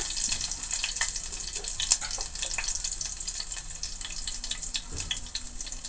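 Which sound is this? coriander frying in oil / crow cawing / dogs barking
coriander frying in oil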